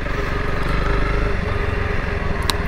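Honda CRF 300L Rally, a 2021 model, riding on a Northern California road, with a steady low engine drone and wind rumble running continuously throughout, fairly loud and close, with no talking.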